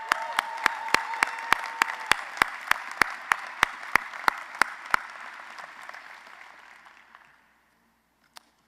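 Audience applause fills a law school hooding ceremony hall, a dense burst of clapping that gradually thins and fades into near silence, with one last stray clap at the end.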